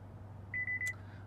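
A 2018 Honda Accord's alarm chime set to low volume: four short, evenly spaced electronic beeps in a quick run, fairly quiet over a low cabin hum.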